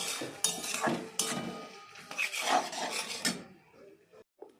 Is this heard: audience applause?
no